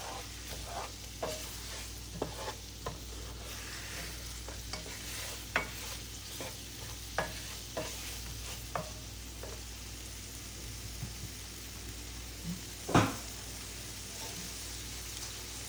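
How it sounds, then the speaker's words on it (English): Flour sautéing in a pot for a beefless stew, a continuous low sizzle under repeated spoon scrapes and taps, close, with one louder knock near the end. "You want to cook the flour taste out, so we're going to let this saute for about 2 minutes."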